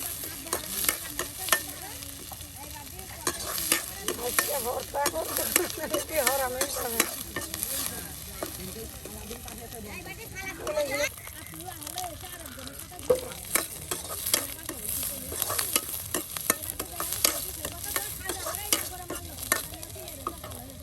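Coriander leaves being stir-fried in a pan for a bhorta, heard as a steady sizzle with repeated scraping and clattering stirs that run loudly and continuously throughout, with no talk.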